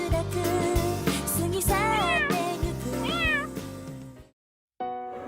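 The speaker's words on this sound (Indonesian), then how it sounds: "Loh, ini kan kucing yang ada di desa" A cat in a Sakura School Simulator drama meows several times in a row, loud and close with rising and falling cries, then falls silent briefly before one more short call.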